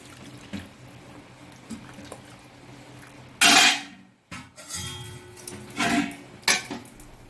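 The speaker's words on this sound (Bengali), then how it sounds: "এবার আমি এতে জল গরম করে রেখেছি, সেই জলটা আমি এতে অ্যাড করব।" Hot water is poured into a pot of chicken curry with potatoes, making two loud splashing bursts with metallic clanks of the pot and utensils between quieter stretches.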